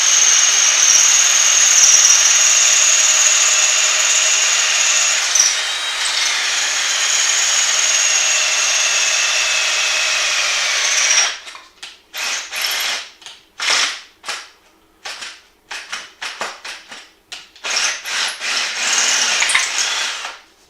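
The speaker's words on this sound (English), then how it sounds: "So basically I'm just re-drilling the holes in here." A power drill re-drilling holes in soft metal whines steadily at high pitch for several seconds, then stops, followed by a run of short bursts and clicks as it starts and stops repeatedly.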